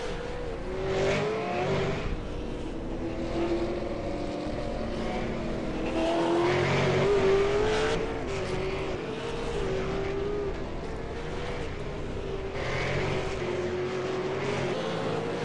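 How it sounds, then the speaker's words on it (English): V8 Supercar racing at Oran Park, with several engines roaring past at steady high revs, their pitch rising and falling as cars pass, loud and continuous, with some tire noise. "Then you've got the two Compass cars, Jason Scandalera and Justin Allen there, 10th and 11th."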